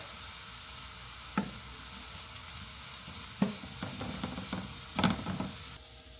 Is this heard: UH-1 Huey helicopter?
no